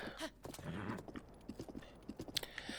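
A horse's hooves clip-clop steadily at close range in Breath of the Wild, a quick run of rhythmic knocks on the ground with a short whinny near the start and no talking.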